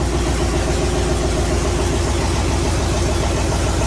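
A 5.3 LS V8 idles in a Ford Ranger 4x4 race truck after sitting unused for three years, a steady loud low rumble with an even, throbbing pulse and no voices.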